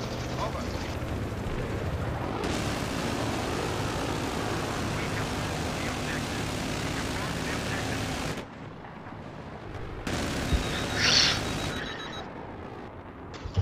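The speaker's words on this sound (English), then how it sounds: "Helicopter to our right, starboard side." Aircraft noise in Battlefield 3, with a helicopter and jet flying, forms a broad continuous roar that stays loud for several seconds, cuts out briefly, then resumes under game sounds and voices.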